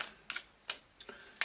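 Tarot cards are shuffled by hand during a reading, giving faint, quick riffling snaps that come in short separated bursts of about five soft clicks with quiet gaps between.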